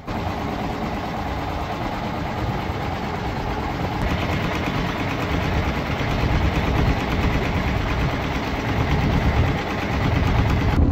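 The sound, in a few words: fishing trawler engine running while departing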